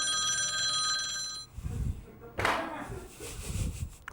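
A telephone bell rings steadily for about a second and a half, then stops, followed by bumps and a person talking.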